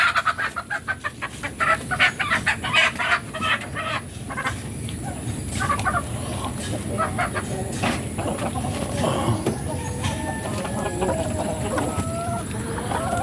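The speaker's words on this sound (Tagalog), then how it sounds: "Rhode Island chicken." Rhode Island Red chickens cluck steadily at close range during feeding, with some louder squawks mixed into a busy, continuous farmyard chorus.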